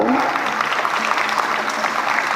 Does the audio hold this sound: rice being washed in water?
no